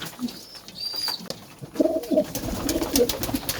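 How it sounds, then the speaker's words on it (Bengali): Domestic pigeons coo in low, throaty bursts, close by, with a few softer coos early and a busier stretch of overlapping calls later. "এই কবুতরগুলো কিন্তু দেশি কবুতরের বাচ্চা"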